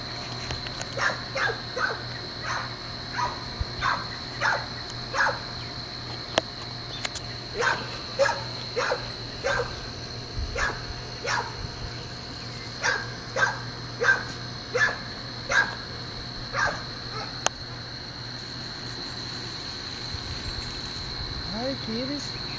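Dog barks repeatedly in a series of sharp barks over a constant background of chirping crickets, with a whimper toward the end.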